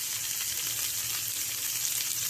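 Steady, dense sizzling of curry leaves dropped into hot oil, a continuous crackling hiss throughout with no talking.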